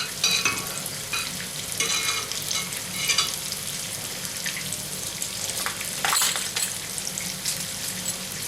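Chicken kofta fries with spices in ghee, giving a steady sizzle over which irregular scraping and stirring clatters rise and fall.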